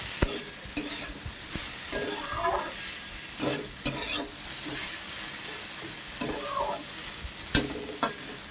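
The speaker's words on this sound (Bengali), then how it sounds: "তো দেখো বারবার আমি এটাকে নেড়ে নিলাম।" A spoon stirs vegetable curry in a pan on a soft continuous sizzle, with periodic scraping strokes and sharp clinks against the pan at irregular intervals.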